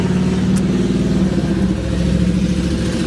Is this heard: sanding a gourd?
no